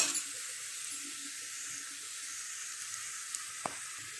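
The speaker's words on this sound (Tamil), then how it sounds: "வெங்காயம் நல்லா வதங்கிடுச்சு." Onions for chicken biryani sauté in a pan with a soft, steady high hiss, fairly faint and uninterrupted, with one brief knock near the end.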